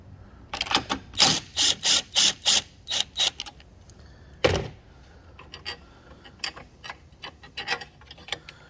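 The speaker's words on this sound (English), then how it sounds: "We're going to use the long 10mm socket to drive these out." A ratchet on a long 10mm socket backs out battery hold-down bolts on a 2015 Nissan Altima, giving a close series of rapid clicking bursts, then a lone knock and more scattered, lighter clicks.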